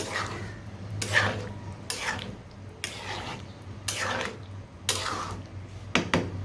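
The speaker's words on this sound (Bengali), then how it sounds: "তো আমি হচ্ছে এখন ঢাকনাটা উঠিয়ে নিচ্ছি, ভালো করে একটু নেড়ে দিচ্ছি।" A metal lid is lifted and a spoon stirs restaurant-style haleem made from a ready mix in a cooking pot, giving roughly six separate scraping, clattering strokes spaced about a second apart at close range over a low background hum.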